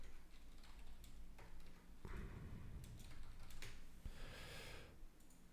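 Keystrokes on a computer keyboard, faint and irregular, with quick clusters of light clicks separated by pauses over a low background hum, and no talking.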